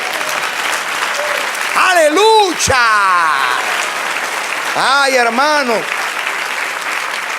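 A church congregation claps steadily for the whole stretch, with excited voices calling out over the applause in two loud bursts.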